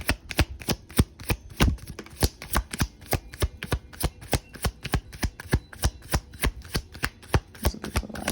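Tarot cards being shuffled in a steady run of crisp riffling snaps, about three to four per second, close and clear with no voice over them.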